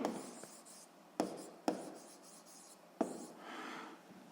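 Pen or pencil writing notes during a physics lesson, with soft, close scratching strokes broken by a few sharp taps, quiet and without talk.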